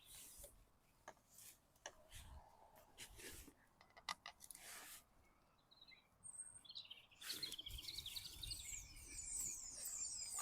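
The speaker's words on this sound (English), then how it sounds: "The birds have all just been singing" Songbirds chirp and trill at an allotment garden, their calls faint and intermittent at first and then growing busier and brighter toward the end, mixed with soft rustling and scraping noises close by.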